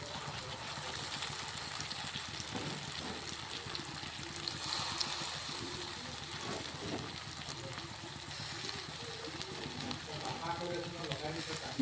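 Chowmein fries in a pan with a soft, continuous sizzle while it is stirred, giving faint scraping and tossing sounds throughout.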